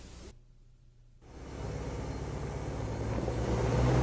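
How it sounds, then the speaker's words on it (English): A road grader on an unpaved road moves with its blade lowered; after a brief quiet gap a low rumbling drone builds and grows steadily louder as the machine gains speed. "Move the grader forward, watch the blade, and increase your speed gradually."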